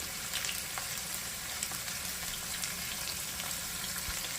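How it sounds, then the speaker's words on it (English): Salmon fillet frying in a hot pan, giving a steady, even sizzle with faint crackles throughout, close and moderately quiet, with no voices. "we are going to cook our salmon for about 6 minutes, flipping it over so that both sides are cooked"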